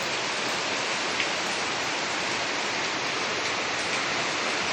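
Rain pours steadily, a dense, even hiss of falling water that stays unchanged for the whole stretch, with no voices.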